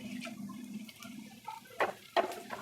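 Cooked moong dal is tipped with its cooking water onto sautéed onions in a pan while making siru keerai poriyal. A soft, wet pour and sizzle is followed by two sharp clinks of a spoon against the pan.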